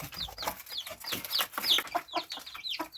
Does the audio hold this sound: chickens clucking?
yes